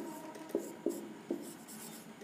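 Chalk or marker tapping and scratching on a board during a maths lesson, a few short sharp strokes at a steady pace, close and fairly quiet, with no talking.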